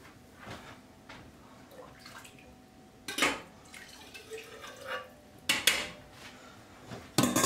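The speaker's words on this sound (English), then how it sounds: "Then I'm going to add a little bit more of the" Pasta water being poured into roasted garlic sauce in a jar, with soft splashes and drips and a few sharp clinks of glass or utensils in between, close and fairly quiet.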